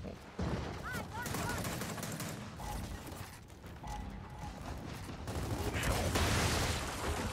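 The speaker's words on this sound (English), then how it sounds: "Oh my god, he's on the turret, he's gonna kill us all." Turret gunfire in Gears of War 4 multiplayer: rapid bursts of mechanical shooting and impacts that swell louder toward the end, with players talking excitedly over the action.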